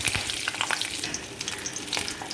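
Panch phoron (five-spice seeds) and green chillies frying in hot oil in a home kitchen give a steady, close sizzle with scattered sharp pops and crackles throughout, with no talking.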